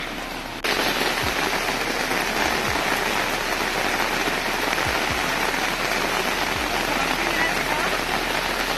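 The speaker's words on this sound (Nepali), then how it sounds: "एकदम घमासान बर्सात भयो यहाँनिर" Heavy rain pours down on the Chulipokhari trek in a dense, constant roar on surfaces nearby, with a few sharp thumps and drops standing out.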